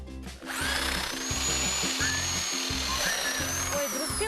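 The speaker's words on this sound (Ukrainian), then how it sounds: "І спеціально для цього в мене є ось таке сверло. Називається воно перо. Спробуємо." A power drill with a spade bit bores into a tree stump, its motor whining loudly and steadily with rhythmic grinding pulses as the bit chews into the wood, close up and alone.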